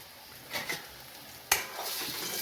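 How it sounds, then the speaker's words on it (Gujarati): Turmeric, salt, garam masala and white cumin powder are stirred into a raw mango curry in a pan: soft scraping strokes, a sharp utensil clink midway, then a continuous sizzle. "મિક્સ કરી દઈએ બધું બરોબર."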